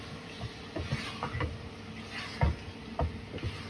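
Turnip bharta stirred and mixed in a pan, with irregular scraping and clacking strokes of a spoon over a soft frying sizzle, close and moderately loud.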